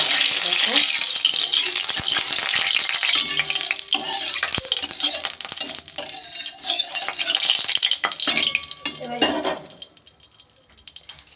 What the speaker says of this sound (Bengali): এবার আমি কড়াইয়ের মধ্যে কিছুটা পরিমাণে সরিষার তেল দিয়ে দিলাম